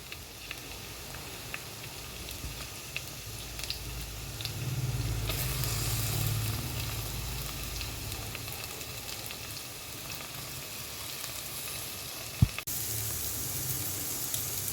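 Bitter gourd with onions and curry leaves sautéing in a pan gives a low, continuous sizzle that swells midway, with faint scattered clicks and one sharp knock near the end, no talking.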